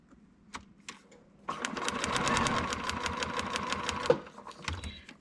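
A sewing machine stitching a paper-pieced miniature quilt runs in one steady, rapid, rhythmic burst of about two and a half seconds, close and clear, with a couple of faint clicks before and after.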